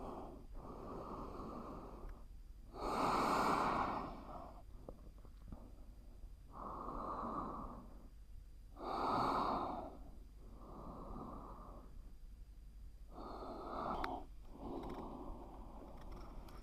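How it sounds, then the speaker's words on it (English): Slow, gentle breathing in and out through the nose during a beginner yoga session after building heat, with soft airy exhales and inhales in a calm rhythm, several breaths spaced a few seconds apart. "breathing in and out gently through the nose"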